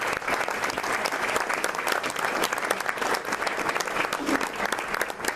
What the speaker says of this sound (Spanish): le demos un aplauso a Javier por hacer estas cosas